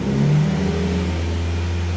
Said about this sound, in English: If I give it a little bit of a rev